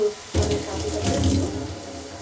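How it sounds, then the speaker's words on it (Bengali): A kitchen tap gushes water for hand washing during cooking, switching on abruptly and then pouring steadily and loudly, splashing into the sink without pause. "রান্না করতে করতে অনেকবার আমাকে হাত ধুতে হয়"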